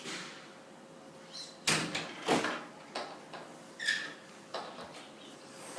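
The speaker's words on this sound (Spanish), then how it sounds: "Abre la puerta." A door opens indoors with a series of soft knocks, clunks and scrapes, moderately close and unhurried, with no one speaking.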